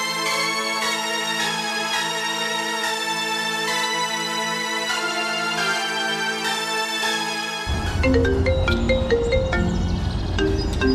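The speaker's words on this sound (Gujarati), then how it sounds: "રીનાને ફોન કરું." A phone ringtone plays as a steady, bright melodic tone for several seconds, then changes to a fuller tune with a deeper underlying layer. It sounds near and clear, with no talking over it.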